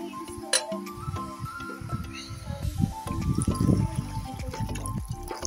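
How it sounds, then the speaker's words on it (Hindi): Water poured into sautéed mixed vegetables in a kadhai, a splashing, dribbling stream with wet squishy bubbling close by, steady for several seconds. "अब इसमें पानी डाल के इसको ढक दूंगी मैं।"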